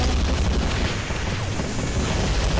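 Dense explosions and gunfire from the video game Planet Explorers, a constant, loud rumble of booms and shots with no pause.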